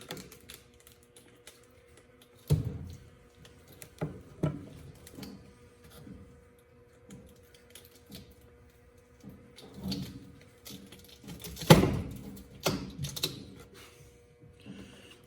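A Flow Hive frame is cranked by hand to harvest honey, producing scattered close mechanical clicks and ratcheting clacks with quiet gaps, one sharper clunk near the end, no speech.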